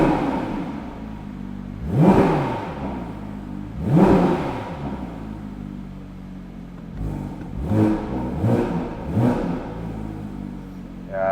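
A Porsche 992 911 GT3 RS Manthey road-legal race car heard from inside the cabin with both windows down, its engine blipped in sharp rev bursts: two spaced single revs, then a quick run of three, over a low idle.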